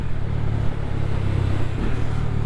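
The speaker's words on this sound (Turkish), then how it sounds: "şu an motor titreyerek gidiyor biraz çünkü devir düşük diye uyarıyor beni" A motorcycle engine lugging at low revs in high gear during break-in riding, a steady close vibrating rumble with a throbbing low pulse that runs unbroken throughout.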